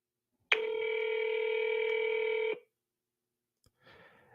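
A telephone ringback tone sounds while a call to a New York City police precinct waits to connect, one steady two-second tone followed by silence and faint rustling.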